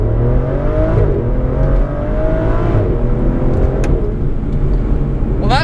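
An Aston Martin Vanquish launches hard under launch control, its engine roaring loud and close as it climbs through rising revs with a brief shift dip, continuous and unaccompanied by talk.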